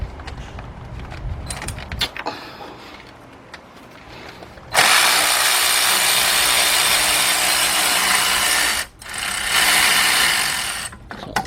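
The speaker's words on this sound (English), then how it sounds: "So I got my 13mm shallow 3/8 drive, my cordless impact, and that bolt right there." Cordless impact wrench hammering a 13mm bracket bolt loose on a 2005 Cadillac CTS with a 3.6 engine, using a 3/8-drive shallow socket; a loud, close sustained rattling burst of several seconds, a brief pause, then a second burst.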